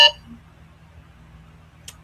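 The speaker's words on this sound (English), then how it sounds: "there's that alarm." A single sharp electronic alarm beep in a quiet room, followed by low hum and a faint click near the end.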